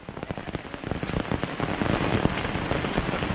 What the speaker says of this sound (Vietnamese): Mưa sướng đấy. Cơn mưa.